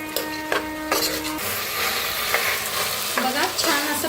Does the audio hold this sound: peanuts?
yes